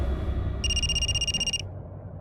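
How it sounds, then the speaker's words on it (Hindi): A telephone rings in a dramatized police scene: a single bright electronic trill burst of about one second, loud and clear over a low room hum, then stops. "दिल्ली से पीएसआई तोमर का फोन था।"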